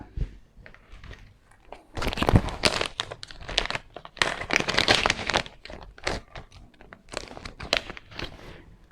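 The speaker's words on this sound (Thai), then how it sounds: "เราก็ฉีกออกมาเลยนะครับ" Foil cleaning-card packet for a POINTMAN N20 card printer being torn open up close, with sharp crinkling and ripping bursts that swell and fade in several waves.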